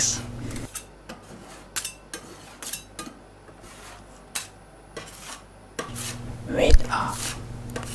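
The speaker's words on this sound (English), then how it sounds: "With a whisk the toppings into the ice cream base to ensure they are evenly distributed" A whisk works toppings into an ice cream base for snake ice cream jelly, giving close, intermittent metallic taps and scrapes against the bowl over a soft rubbing hiss, with a louder clatter near the end.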